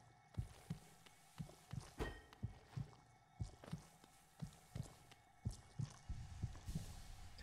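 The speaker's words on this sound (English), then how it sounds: "I'm not a fan of the whole heartbeat sound." A steady game heartbeat from Hollow Knight, found beside an infected mossy vagabond's corpse, thumps in regular low double beats through the whole stretch over a faint ambient backdrop.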